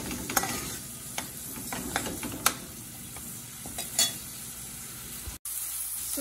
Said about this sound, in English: So that's frying up nicely in there.